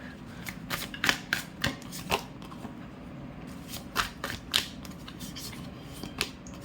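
Tarot cards shuffled by hand: close, crisp riffling and flicking bursts come in uneven runs over a low background hum, with no talking.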